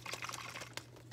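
A Black & Decker iron with water inside gives off a faint, steady gurgling hiss with soft bubbling pops over a low electrical hum, quiet and close.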